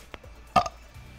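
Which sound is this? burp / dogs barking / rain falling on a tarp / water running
burp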